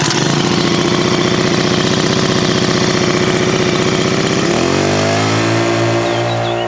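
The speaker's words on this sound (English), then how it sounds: "So pump's on, and you can hear it's quite loud." A loud mechanical water pump at an off-grid homestead in Portugal drones steadily with a rapid pulsing rhythm, then its pitch shifts and smooths into a continuous hum near the end.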